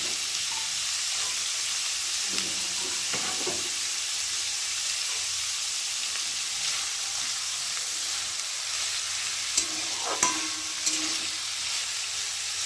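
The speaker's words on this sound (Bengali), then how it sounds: "তো ভালো করে সবজিটাকে ভেজে নেবো" Mixed vegetables frying in oil for a vegetarian chowmein give a steady bright sizzle and hiss throughout, with a few soft stirring scrapes at points and no talking.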